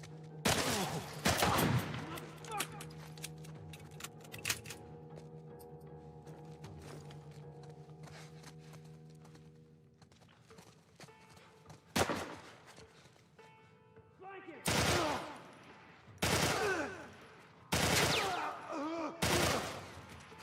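Gunfire from a player's weapon in The Last of Us Part I, a few loud sharp shots clustered at the start, then a longer gap before several more bursts in quick succession near the end.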